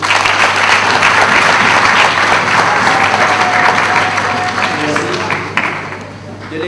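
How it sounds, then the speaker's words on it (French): Audience applause at a closing ceremony for the Month of Women, a dense sustained wash of clapping from a crowd that gradually tapers off near the end. "Je voudrais que l'on puisse encore vous applaudir."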